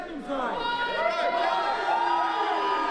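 A wrestling crowd at the Last Warrior Standing Rumble 2022 event cheers and shouts loudly and continuously, a dense roar of many voices with whoops rising above it, close and sustained throughout.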